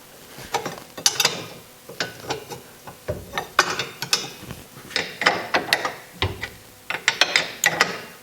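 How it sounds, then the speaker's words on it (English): Close metallic ratchet wrench clicking in repeated bursts while a ball joint nut is loosened on the front suspension of a Porsche Boxster, sharp rapid clicks with short pauses between strokes. "I'm going to pull this ball joint nut right here."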